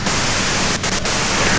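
Dense, steady radio static hiss from the video game Disco Elysium, loud and unbroken apart from two brief dips, with no voices over it.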